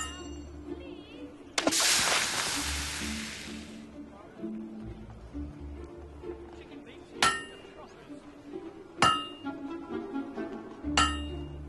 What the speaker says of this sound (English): You know how to use a hammer.